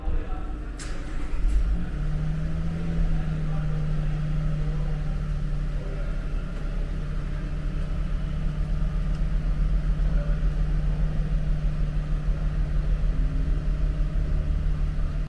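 A petrol Toyota Land Cruiser LC300 ZX with a 3.5-litre V6 starts up and settles into a steady, low idle rumble that holds close and even throughout, with no talking.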